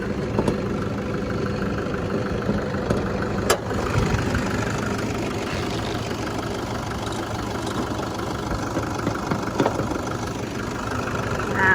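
A 2012 Toyota Vigo Prerunner pickup with a 2.5 D4D common rail turbodiesel and top-mounted intercooler idles with the hood open, giving a steady close clatter and rumble with a sharp click or two.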